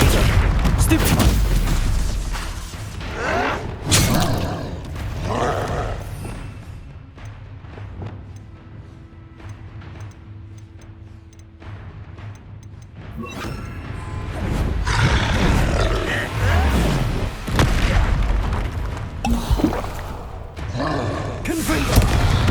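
Spell casting in Hogwarts Legacy brings repeated heavy magical blasts, booms and thuds in bursts, separated by a quieter stretch with a low hum, with shouted incantations among the impacts.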